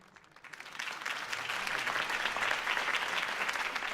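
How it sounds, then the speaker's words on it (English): Applause in Batman: The Telltale Series swells up from quiet into a sustained wash of many hands clapping, steady and fairly loud for several seconds. "could have heard that applause"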